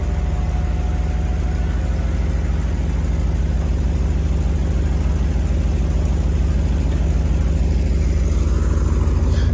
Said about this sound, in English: What I'm going to do is pull the car over here.